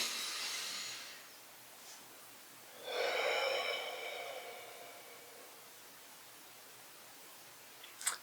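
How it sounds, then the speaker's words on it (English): A slow, deep breath during a guided tapping self-care session: a soft, airy inhale, a pause, then a longer breathy exhale, close and unhurried, with no talking. "And then a deep breath."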